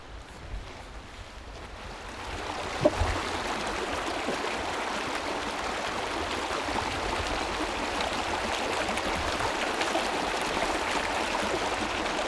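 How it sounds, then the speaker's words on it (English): A creek flows in a steady, close rush of water across an outdoor elk-hunting area in Utah, broadband and unbroken, with one brief knock partway through and no voices. "So we just crossed the creek"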